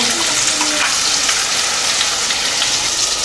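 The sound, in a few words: onion paste frying in oil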